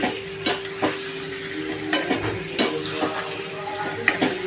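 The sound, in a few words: brinjal sautéing in oil with tomato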